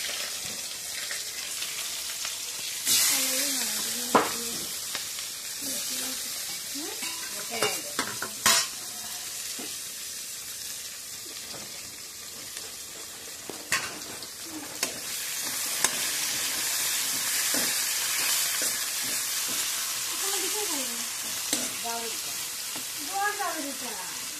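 Onions frying and being stirred in a pan while chicken kosha is cooked, a steady sizzle with scraping stirs and clinks of the spoon throughout, with faint background voices now and then.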